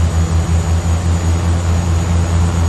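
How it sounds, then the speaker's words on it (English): A Beechcraft King Air C90 with both left and right turboprop engines running gives a loud, steady low drone with a faint high whine on top, heard close and alone with no talk. "We have both left and right engines at this point up and running."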